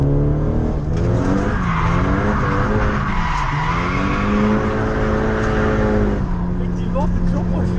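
A Nissan Silvia S15 drifts with a sustained, loud tire squeal over a steady engine roar held near the rev limiter, the pitch wavering through the slide, with occasional speech underneath.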